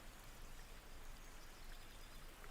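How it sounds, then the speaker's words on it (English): Steady rain and running water form a soft, constant hiss as a forest ambience backdrop, faint and even with no speech. "Mine is rain and a little bit of water noise and some bird song."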